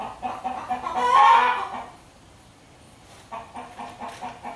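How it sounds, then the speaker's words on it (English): A hen near a backyard coop gives a loud, drawn-out cluck, then quieter intermittent clucks follow at a middle distance. "That's a hen doing that."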